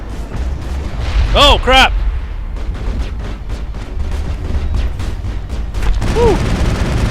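Gunfire and explosions in the video game Mass Effect, set on Noveria, with bursts of shots and booms alongside game effects throughout, while a player exclaims over the action.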